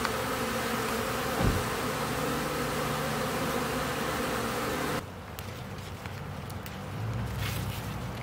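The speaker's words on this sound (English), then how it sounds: "Look at the bees out this morning. Can you hear them all buzzing?" A steady buzzing of many bees hums outdoors, fairly close, with a faint rustle and a brief shift in the background partway through.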